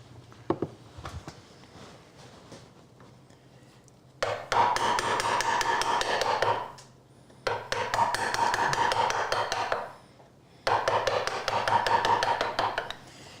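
A hand plane cuts through a knot in wood in three long strokes, each a dry scraping rush with faint ticking, separated by brief quiet pauses.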